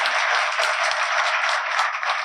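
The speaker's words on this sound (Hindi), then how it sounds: "एक बार जोरदार तालियां बहन रुकमा गोदारा" Audience at an open teaching session breaking into loud applause for a speaker, dense continuous clapping that holds steady from start to finish with no voices over it.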